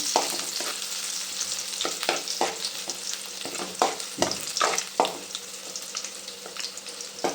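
Ginger garlic paste and green chillies frying in oil for egg rice, a crackling sizzle with stirring scrapes and intermittent pops, close up with no talk.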